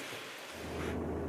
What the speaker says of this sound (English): It's yucking it down the rain outside as well.